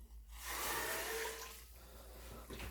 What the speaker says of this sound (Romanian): o să turnăm apa